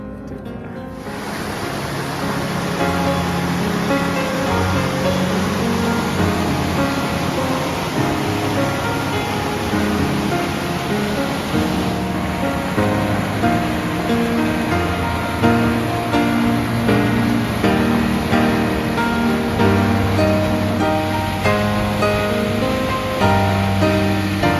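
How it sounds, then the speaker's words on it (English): Small waterfalls and a rushing mountain river near La Plata Peak, Colorado, make a loud, steady roar of falling water that runs unbroken throughout. "Probably will show you the little waterfalls that we couldn't see this morning."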